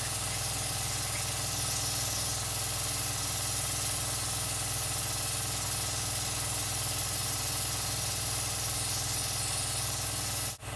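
A Belletto Studio airbrush sprays makeup in a continuous, close hiss with a steady compressor hum underneath, unbroken for about ten seconds before cutting off abruptly at the end.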